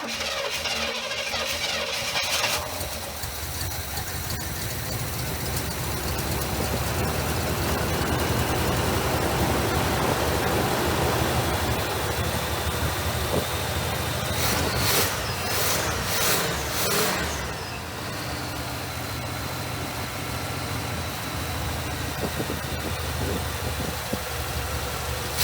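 Chevrolet Monte Carlo engine running after carburetor work, a steady rough idle with broadband rumble and hiss throughout, one brief burst of rattling in the middle.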